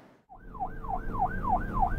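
A cartoon police car siren wails in a rising and falling whoop, repeating about five times at a steady rhythm, fairly close and alone.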